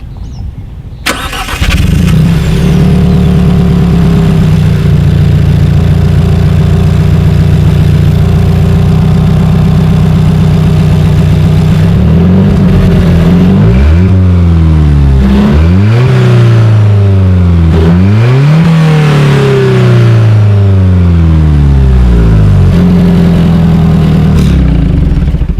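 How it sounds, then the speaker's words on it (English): A 2020 Alfa Romeo 4C Spider, a mid-engine car, starts up and settles into a loud idle, then revs sharply several times with rising and falling exhaust pitch before returning to idle, close up and with no talking. "As always, here is that exhaust clip."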